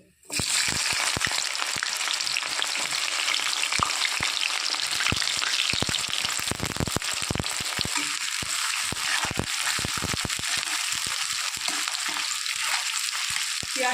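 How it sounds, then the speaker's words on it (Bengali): Chopped onion hits hot spiced oil with an abrupt, loud, steady sizzle, broken by intermittent clicks and scrapes of stirring. "এবার দিয়ে দেবো কুচনো পেঁয়াজ"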